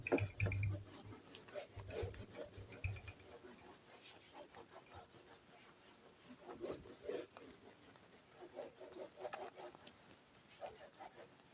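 Rubbing sounds from erasing the lower part of a classroom board, with broadband scraping strokes in bursts over about twelve seconds, soft and near, with some faint background speech.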